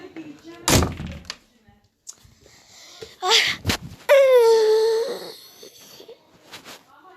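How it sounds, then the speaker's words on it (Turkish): An indoor door is shut with a loud close thunk, set among other handling bumps. A drawn-out wheezy or moaning sound follows, and a voice is heard faintly. "kapıyı kapatayım"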